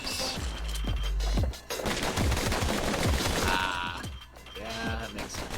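Rapid pistol gunfire crackles through a Bastion battle, bursts of shots mixed with impacts and clanking game effects, loud and close throughout.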